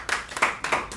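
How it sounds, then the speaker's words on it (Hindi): Audience at a mushaira clapping for a poet, a short run of a few distinct, fairly close hand claps in an uneven rhythm. "इसके लिए भी इनके लिए एक ज़ोरदार तालियां होनी चाहिए।"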